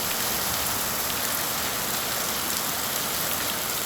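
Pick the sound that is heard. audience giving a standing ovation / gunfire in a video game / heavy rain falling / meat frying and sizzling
heavy rain falling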